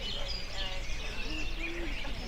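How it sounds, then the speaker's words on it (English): Faint bird chirps echo and reverberate off the stone seats of the ancient theater at Epidaurus, Greece, with people talking quietly nearby. "Even the birds that are chirping, it just echoes, reverberates off these seats."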